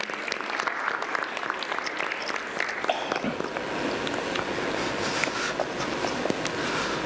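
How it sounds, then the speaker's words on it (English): Audience applause fills a product launch event for the Honor 7 phone and Honor Band Z1 in India, steady clapping from a crowd that builds after a few seconds and continues throughout. "Can we have a round of applause"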